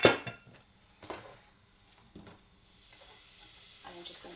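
Onions sauté in olive oil with a soft, close sizzle, punctuated by several knocks and scrapes of a utensil against the pan.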